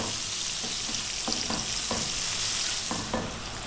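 A cup of onion fries over medium heat for chicken curry, a continuous bright sizzle up close with a few soft spatula taps and stirs, no voices.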